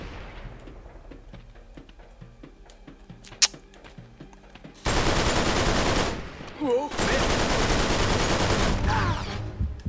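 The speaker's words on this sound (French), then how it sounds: "Dès qu'il y a un gros qui me tire dessus." Heavy gunfire from a large enemy in Uncharted 3, erupting into loud, dense, sustained bursts midway after a quieter stretch of game ambience, with a short break between two long volleys.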